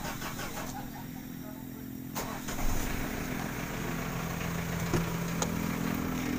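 A Ford Ranger diesel engine cranks and catches partway through, then settles into a steady, fairly loud idle close by, with a few brief revs or knocks over the continuous rumble.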